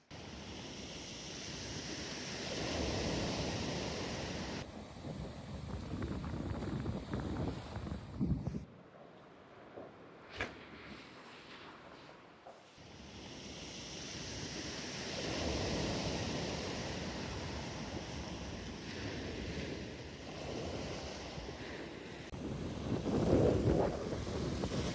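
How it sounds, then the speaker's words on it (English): Waves lap on a quiet shore by a lighthouse, swelling and easing in soft, repeated surges mixed with gusty wind, and a calmer lull partway through. "waves are lapping"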